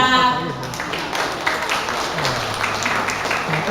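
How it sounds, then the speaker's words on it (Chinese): Applause at a temple's elderly-honouring birthday gathering, a crowd clapping in a dense patter beneath a speaking voice introducing guests, continuing for a few seconds. "咱嘛是掌声欢迎吼"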